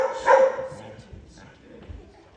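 A single dog bark close by, a short loud burst near the start that fades into quieter outdoor background, with faint talking nearby.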